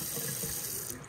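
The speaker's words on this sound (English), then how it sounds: "Next method is to soak it in water." Tap water runs steadily into a sink or container to soak a Lego airplane, a continuous close hiss and splash that cuts off near the end.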